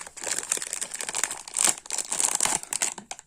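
A crumpled plastic bag wrapped around a charger is handled up close, producing continuous crinkling and rustling in irregular bursts with no voices.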